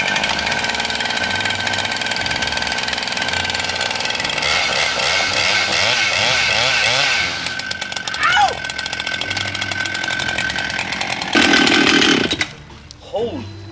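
A chainsaw with a 32-inch bar cuts through a huge wood slab, roaring loud and close with a strained, wavering pitch as the chain bogs in the cut, then revving hard before dropping off.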